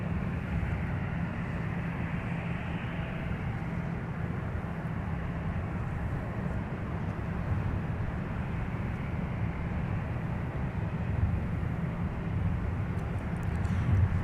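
A heavy jet arriving at Minneapolis–Saint Paul airport gives a steady, distant, low roar that holds even for the whole stretch and swells slightly near the end.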